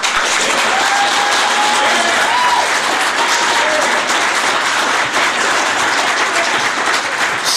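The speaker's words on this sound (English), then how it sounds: "I understand your applause" An audience at a school board meeting applauds, a loud and sustained roomful of clapping that continues evenly throughout, with faint voices mixed in.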